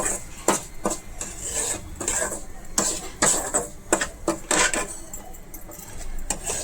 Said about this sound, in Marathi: आज मी भाजून घेत आहे छान पैकी आणि व्यवस्थित असं घ्यायचं आहे भाजून